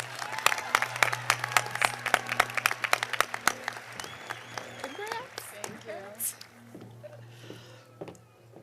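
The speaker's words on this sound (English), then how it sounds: "Let's give Carter a round of applause." Sparse, distinct handclaps ring out from a commencement crowd for a graduating student, crisp and spaced at first, then thinning into scattered cheers and voices.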